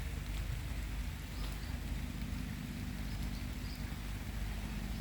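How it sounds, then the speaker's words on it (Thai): Continuous heavy rain hisses and roars evenly over a small caladium garden, a dense wash of sound with no voices or other distinct events. "ฝนตกปล่อยๆ"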